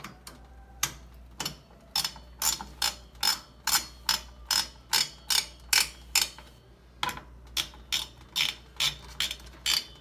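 A ratcheting screwdriver tightens screws during a Ryzen budget gaming PC build, producing a quick, regular series of sharp clicks close by, in a couple of rhythmic runs with a short pause between.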